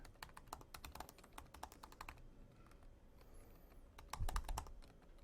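Quick, irregular keystrokes patter on a computer keyboard close by, in bursts with short pauses and a faster flurry toward the end.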